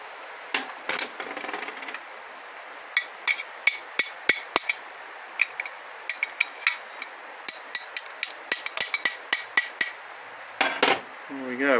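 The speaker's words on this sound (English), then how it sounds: "And then we give it a little tap." A hammer taps a pin into a planetary gear carrier from a Ford BF/FG automatic transmission: dozens of sharp, bright metallic clinks, close and loud, in uneven bursts and quick runs across the whole stretch, with no talking.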